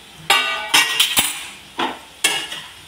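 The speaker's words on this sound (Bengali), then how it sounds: "আমরা ঢাকনাটা একবার খুলছি।" Metal lid lifted off a pot of simmering spinach and mixed vegetables, giving several sharp clanks and scrapes in an uneven rhythm, close and fairly loud, with no talk.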